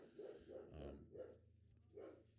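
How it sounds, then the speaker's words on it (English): Molly, a German Shepherd, lets out several muffled barks and growly woofs in an uneven rhythm, faint and somewhat distant, as if from another room. "really sorry about my German Shepherd, Molly. She is apparently barking at the neighbors or something"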